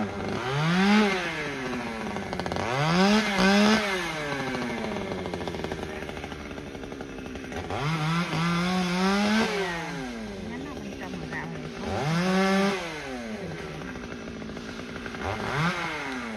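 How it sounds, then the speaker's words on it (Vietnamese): A chainsaw cuts into a very large Tai Tuong melaleuca tree beside a road in Cai Be district, its engine rising and falling in repeated rev cycles of a few seconds each, steady and fairly close with a constant idle between bursts. "Vậy thì em Cường cũng đã kéo máy cưa lên rồi nha."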